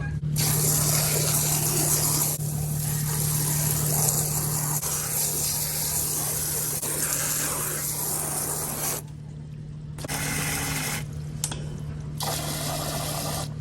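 Water rushes steadily from a hose without a nozzle into a cow trough, a broad hissing splash that cuts out briefly near the end and then resumes.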